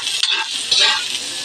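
Chopped onions fry and are stirred in a hot pan for pancit canton, a steady close sizzling hiss broken by scraping stirs.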